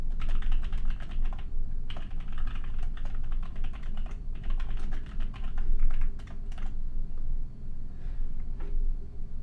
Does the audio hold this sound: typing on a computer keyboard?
yes